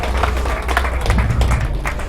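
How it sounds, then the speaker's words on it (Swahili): A church congregation applauds during a sermon, loud dense clapping from many hands filling the whole short moment. "Situmpatie Bwana Yesu makofi."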